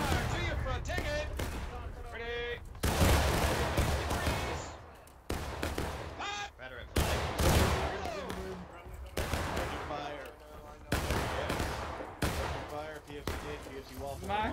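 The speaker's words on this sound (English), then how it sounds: "Volley fire to your front." Musket volleys ring out in the War of Rights video game, set at Antietam. Sharp rifle shots and bursts recur through the clip, alongside shouted commands and voices over a loud battlefield din.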